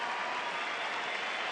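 Baseball stadium crowd at a Cubs at Rockies game in Colorado reacting to a pitching change, a steady, broad wash of distant crowd noise and scattered clapping with no distinct voices.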